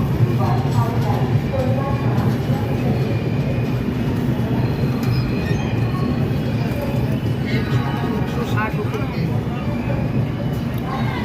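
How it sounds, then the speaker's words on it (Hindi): A passenger train pulling into Asansol station, with a steady loud rumble of wheels and carriages close by and faint squeals, while people talk over it. "हम आसनसोल पहुंच चुके हैं, देख लीजिए आसनसोल का अराइवल।"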